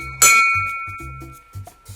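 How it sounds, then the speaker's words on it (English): A single small bell rings out with a bright metallic strike, its clear tone ringing on and fading over about two seconds while low sounds continue underneath. "Let's ring the bell."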